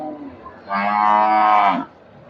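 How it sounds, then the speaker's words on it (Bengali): A single long, loud moo from a cow nearby at a crowded cattle market, rising and holding for about a second, with faint background noise around it. "ভিতরে কিন্তু শুধু গরু আর গরু"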